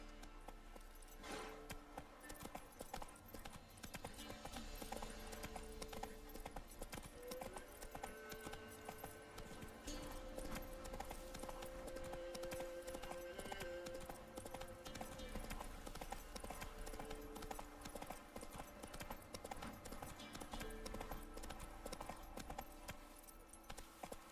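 Steady clip-clop of horse hooves from The Witcher 3 runs throughout, an even trotting rhythm set against constant game music and ambience, no talk over it.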